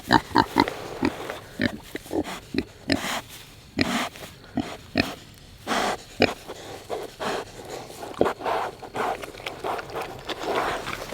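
Pigs grunt and snort in short, irregular bursts close by, several animals overlapping with loud snuffling and a few sharper oinks.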